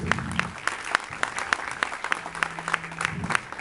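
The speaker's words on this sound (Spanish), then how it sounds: "dale un fuerte aplauso" A church congregation claps loudly during an evangelistic campaign service, sharp irregular claps filling the space over a low hum with a faint sustained tone beneath.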